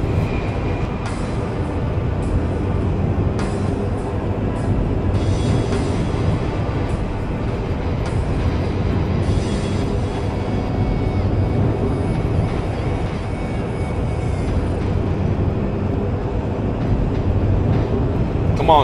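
A train in the video game Chaser rumbles along steadily, a dense continuous low roar with faint clanking and no talk.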